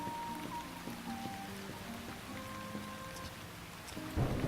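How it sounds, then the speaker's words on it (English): Steady rain pours in the fantasy game Shroud of the Avatar, with a low thunder rumble building and swelling near the end, under soft game music tones. "We'll come back to this in a few minutes when we have some light, and it's not raining quite as bad."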